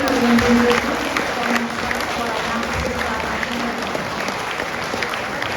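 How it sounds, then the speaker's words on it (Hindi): Steady audience applause fills a college auditorium during a postal workers' workshop, honoring an employee, with a voice talking over it early on. "आप लोगों की जो लगातार तालियां रामपाल जी के लिए बजी हैं"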